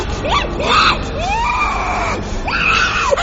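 A woman screams sharply in a drama setting as she wakes suddenly, several rising and falling shrieks in quick succession, loud and close, with no other sound.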